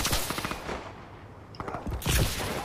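Rapid gunfire bursts from Call of Duty: Advanced Warfare gun game, with weapons including a K5, crackling in quick clusters and swelling louder near the end.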